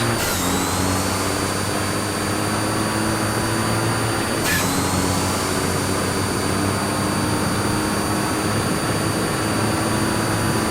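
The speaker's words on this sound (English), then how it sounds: "Very loud blow-off valve sound here, as always." Turbocharged truck engine runs steadily throughout, loud and close, with two sharp high-pitched whooshing hisses of the blow-off valve venting near the start and again midway.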